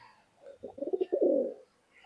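Pakistani pigeons kept for sale give a single soft, throaty cooing phrase, a short rolling burst that swells and fades, faint and close with no talk.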